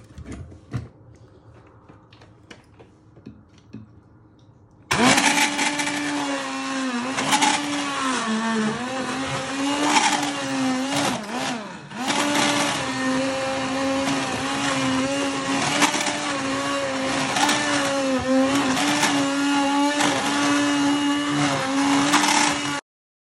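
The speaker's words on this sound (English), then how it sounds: "you're going to get your hand blender and you're going to blitz it" After a few quiet seconds of faint background noise, a hand blender switches on loudly and whirs steadily, its pitch wavering as it churns thick winter vegetable soup.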